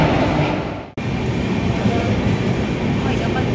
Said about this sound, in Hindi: आज हम ट्रेन हमारे पीछे आ चुकी है